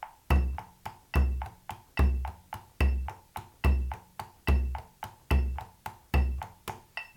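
A hand drum is played with double-down sticking in jig time, a steady run of deep, booming strokes and lighter taps repeating in an even lilting pattern, close and clear with no other sound.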